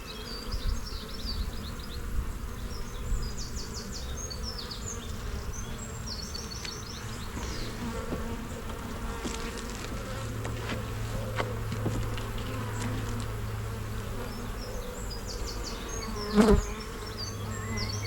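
Honey bees housed in a bin hive buzz steadily during a hive inspection, a close, continuous droning hum throughout, with a short clunk near the end and no talking.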